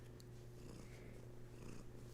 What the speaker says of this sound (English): Nope, it's the cat. It's a big purr.